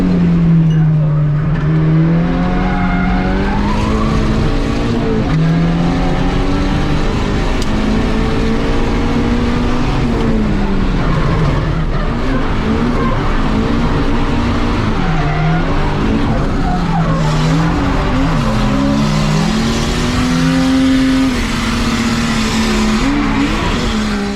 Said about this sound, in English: A big spin there from Tate.